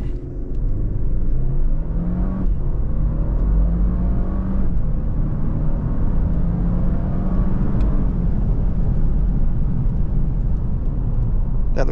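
A 2024 Lexus LX 600 pulls away hard from a standstill, its engine rising in a loud, sustained roar as gears shift, heard from inside the cabin without talk.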